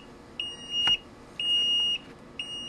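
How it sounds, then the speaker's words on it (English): A multimeter's continuity beeper sounds three times at a slow, even rate, each a steady, clear electronic tone about half a second long over a low background hum. "I'm going to measure what that frequency is when the beeper stops functioning"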